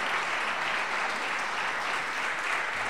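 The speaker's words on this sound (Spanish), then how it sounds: "Da un aplauso fuerte a Él en esta tarde." A church congregation claps loudly during a Spanish-language evangelical service, a dense, even wash of many hands that holds steady for the whole stretch with no voices over it.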